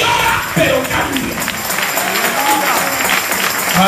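A church congregation applauds during an evening sermon, a steady wash of clapping with crowd murmur and some talk mixed in.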